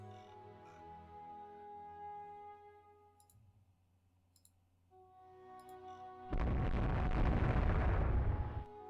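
A warship's guns fire on a land target in the naval strategy game Rule the Waves 2. After a low hum and faint clicks, a loud, rumbling boom lasts about two seconds.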